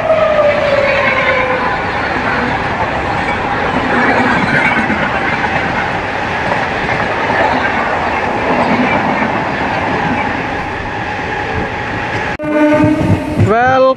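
The Vikramasimhapuri Amaravati Express rolls past at Bapatla railway station, a loud continuous rumble with wheel clatter, ending in a sharp burst of horn or squealing noise close by.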